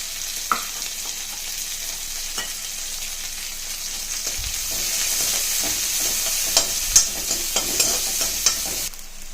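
Chopped onion and garlic fry in a pan with urad dal for a ponnanganni keerai poriyal, giving a steady close sizzle broken by sharper scraping and clicking stirs, with no talking.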